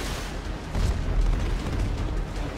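Explosions and heavy fire around an aircraft carrier in the GTA RP video game, a dense, continuous roaring rumble with deep booms swelling partway through, loud and close, with no talking.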